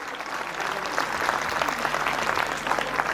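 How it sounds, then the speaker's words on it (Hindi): An audience at a Kidzee children's stage performance applauds, dense clapping holding steady and close for a few seconds. "एक बार बढ़िया से ताली बजनी चाहिए और आवाज जो है ना बाहर तक जानी चाहिए"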